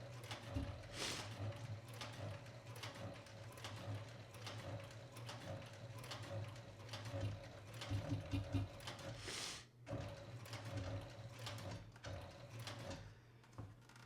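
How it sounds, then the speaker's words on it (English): A sewing machine stitching leather runs slow and steady, giving a close, rhythmic mechanical clatter and whirr that continues almost without pause, with a brief stop near the end. "And Natties, you see how Dad is going nice and slow with his sewing like I did?"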